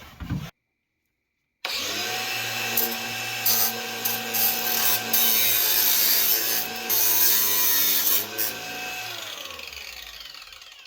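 A powered cutting tool grinds steadily through the exhaust of a 1976 six-cylinder engine being removed, a loud continuous whine that wavers in pitch as it bites, starting after a short pause and running close up to the end.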